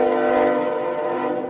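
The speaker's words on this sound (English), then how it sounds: "there goes a train" A train horn sounds from the rail line below Lower Harpers Ferry, West Virginia, heard from the Appalachian Trail above: a sustained, loud, steady chord with no talking.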